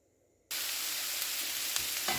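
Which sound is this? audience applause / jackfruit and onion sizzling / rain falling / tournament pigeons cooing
jackfruit and onion sizzling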